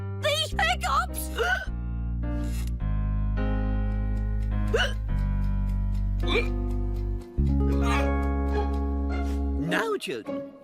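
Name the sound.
cartoon character hiccuping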